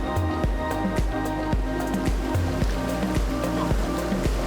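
A whitewater surf wave on the Ottawa River churns in a constant loud roar, overlaid by a rhythmic tonal thumping pattern repeating about every half second, with no one speaking.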